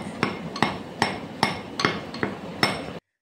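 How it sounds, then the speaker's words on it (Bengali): Garlic cloves pounded in a mortar and pestle in a Bengali kitchen during fish kalia preparation: six sharp, evenly spaced strikes, each ringing briefly, close and clear with no talk. "রসুনগুলো এখন হামাল দিস্তিতে থেতো করে নেওয়া হচ্ছে"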